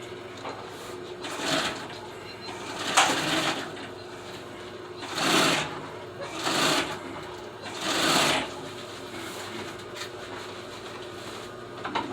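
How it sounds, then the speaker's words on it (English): A sewing machine stitches upholstery for the seats of an old Suburban, running in several short bursts of rapid whirring separated by pauses, with quiet handling noises between. "And continue our sewing."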